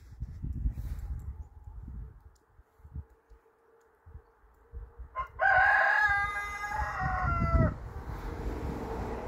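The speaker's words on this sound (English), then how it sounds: "There's our chickens." A rooster crows loudly once, a long drawn-out call, with quieter clucking and low rustling from chickens before and after.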